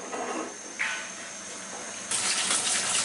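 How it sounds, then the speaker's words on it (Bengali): Tap water runs over a spoon coated with spices while chicken jhal fry cooks, a steady close gush that grows louder and brighter partway through. "চামচটা একটু ধুয়ে দিই, উপরের দিকে"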